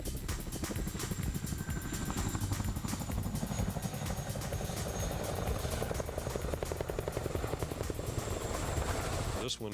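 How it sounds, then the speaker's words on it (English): A Chinook tandem-rotor military helicopter thuds with rapid, steady rotor chopping and a high turbine whine, loud and continuous throughout with no break. "Tandem rotors, a loading ramp in the tail, and the ability to carry heavy loads slung underneath makes the Chinook the most versatile military helicopter"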